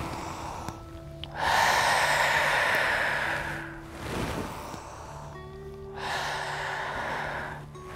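Slow, deep yoga breaths: a long airy inhale, a softer exhale, then another long inhale, each close to the microphone and heard alone against a quiet room with faint music.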